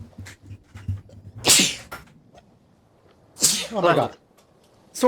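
A person sneezes loudly and up close during a tabletop role-playing game session, with one sharp sneeze followed by a second, longer burst, and brief apologetic talk in between.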